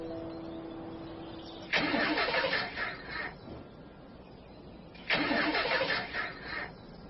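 A car engine that may be out of gas cranks in two long struggling bursts with a short pause between them, turning over roughly without catching, close and fairly loud.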